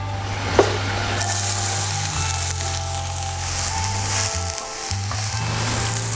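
Green onion sizzling in a little oil in a pan for garlic rice, a loud continuous close sizzle with a few scraping stirs, heard alone under a steady low kitchen hum.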